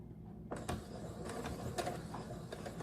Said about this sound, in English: I'm going to start sewing these pieces together.